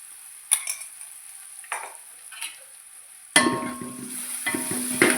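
A few soft scrapes of stirring, then a sudden hiss as paste hits hot oil and keeps sizzling close by, with utensil clinks.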